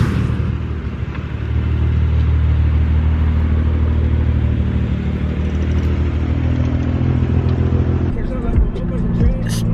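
A 2020 Toyota Supra A90's engine idles while warming up, a loud steady low rumble that holds evenly, with music and voices faintly in the background.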